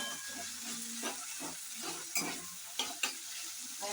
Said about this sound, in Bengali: এবার নেড়ে চেড়ে নিচ্ছে মা।